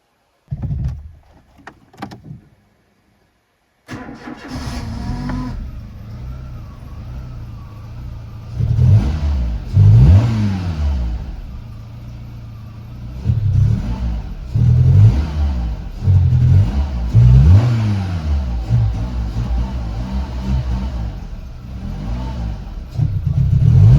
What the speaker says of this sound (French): je vais la mettre en route pour la dernière fois, vu que là il démarre